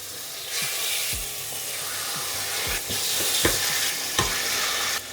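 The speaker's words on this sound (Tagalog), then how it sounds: "Kailangan lang nating i-fry yung ating chicken thigh." Chicken thighs fry in olive oil with a steady, close broadband sizzle, broken by several dull knocks and scrapes of a utensil stirring in the pan.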